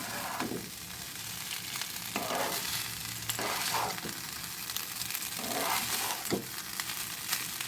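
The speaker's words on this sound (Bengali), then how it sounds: "চাল ভেজে।" Gobindobhog rice fries in a pan for fried rice, a soft, steady sizzle broken by repeated scraping strokes of a spoon stirring the grains every second or so, quiet and close, with no talking.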